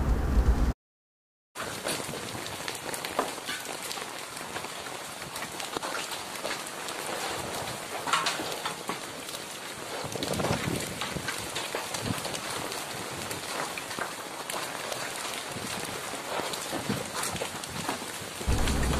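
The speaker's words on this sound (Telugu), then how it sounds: "పలు గ్రామాల్లో వడగండ్ల వాన కురిసింది" Rain pouring down steadily during a hailstorm over villages, a dense hiss of falling drops, continuous and fairly loud, swelling slightly partway through.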